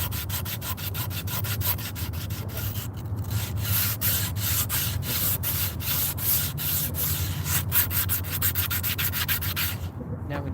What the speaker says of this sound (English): Now when you sandpaper it